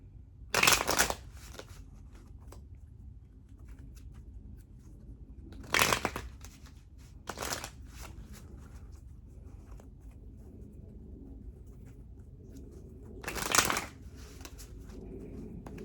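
Tarot cards are shuffled in four short riffling bursts spread out over quiet room tone, close and fairly soft.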